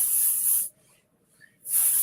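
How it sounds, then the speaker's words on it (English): Gold Rush Dry Heat Protection Spray, a thermal protectant, hisses onto natural hair in two long close bursts, separated by a quiet pause of about one second. "That is going to be the Gold Rush Dry Heat Protection Spray."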